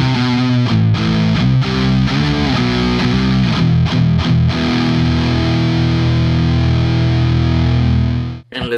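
Schecter Banshee GT FR electric guitar played with both pickups through heavy metal distortion: loud, dense palm-muted chugs and riffing, then a long sustained ringing chord that cuts off abruptly near the end.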